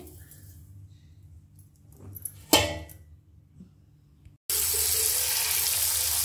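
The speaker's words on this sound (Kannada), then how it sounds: "ಈ ರನ್ನಿಂಗ್ ಟ್ಯಾಪ್ ವಾಟರಲ್ಲಿ ಅಲ್ವಾ ಸ್ವಲ್ಪ ಈ ಥರ ತೊಳ್ಕೊಂಡು" Tap water runs in a brief splashing burst, then a loud steady rush of running water fills the rest.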